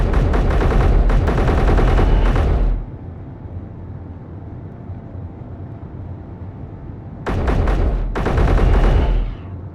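A new gun fired in a video game, loud dense rapid bursts at close range, stopping for several seconds of low humming background before another heavy burst.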